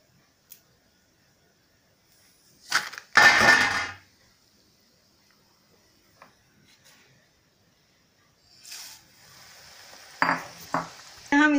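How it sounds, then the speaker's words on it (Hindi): Poha (flattened rice) frying in hot oil over high heat, with a few short bursts of sizzle and stirring separated by long quiet gaps and soft clinks near the end. "अब ये पोहा तल रहे हैं, ये ऊपर आ जाएगा।"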